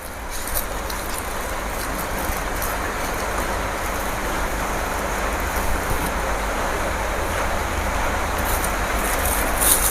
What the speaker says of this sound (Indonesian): Di sini hujan